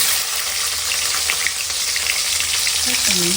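Fennel seeds fry in hot oil with a loud, dense, continuous sizzle and crackle, close up, and a faint voice comes through underneath.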